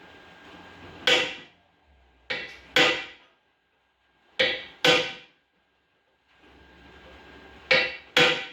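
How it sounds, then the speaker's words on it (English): Sharp hammer strikes on rusty metal ring out in pairs, loud and close, each with a brief metallic ring, separated by short pauses of near silence. "When in doubt, hit it with a hammer"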